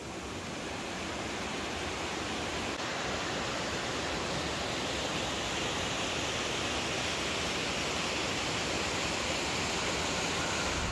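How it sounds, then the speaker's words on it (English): Silver Cascades, a tall waterfall right beside a road in Vermont, makes a constant broad rushing roar that holds steady throughout, with no voices over it. "That waterfall is called Silver Cascades, and it's literally on the side of the road."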